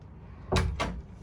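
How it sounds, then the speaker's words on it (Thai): A door opens at home, giving two short bursts of rattling and thudding close by before the room falls quiet. "เปิดประตูแล้ว"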